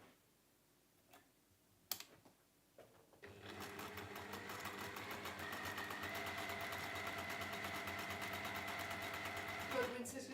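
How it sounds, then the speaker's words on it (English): A sewing machine stitches quilt squares for a tipsy quilt, starting after a few quiet seconds with a few soft knocks, then running as a steady, close, fast mechanical whir and rapid needle ticking until it stops near the end. "We're going to sew on that line like we have done on these, but then we're going to sew on the other line as well."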